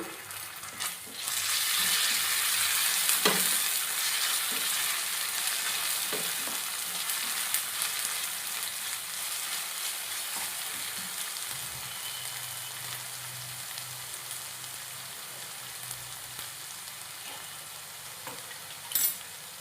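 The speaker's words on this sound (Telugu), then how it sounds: "అల్లం వెల్లుల్లి పేస్ట్ వేసి పచ్చి పాసన పోయేదాకా వేగనిద్దాం" Ginger garlic paste fries in a pan with an even, continuous sizzle, and occasional stirring clicks cut through it close by for the whole stretch.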